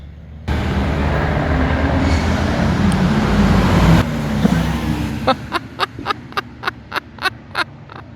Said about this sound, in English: Car coming on the main straight.